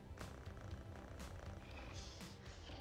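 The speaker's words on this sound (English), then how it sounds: "Purring like awkward kittens." Purring from the video game RAD rolls on as a steady low rumbling flutter, moderately loud and continuous, with a few brief noisy bursts layered over it and no speech.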